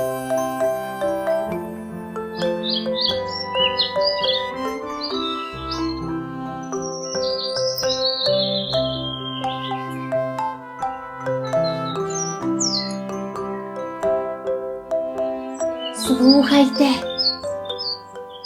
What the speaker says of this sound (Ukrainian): це співають пташки.